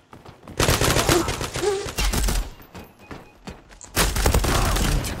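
Rapid bursts of automatic gunfire in the shooter game Zula come in loud, close volleys with short pauses between them, and a voice is faintly audible underneath.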